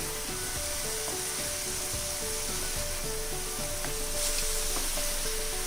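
Ginger garlic paste sizzles and fries in a hot pan while being stirred, for a Cheese Egg Sunrise masala curry. The steady crackling hiss runs throughout, with faint scraping clinks of a spoon and no talking.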